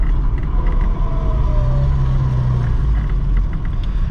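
A Ford Escort MK1 engine droning loud and steady from inside the car while driving, a low rumble with faint creaks and rattles, no talking.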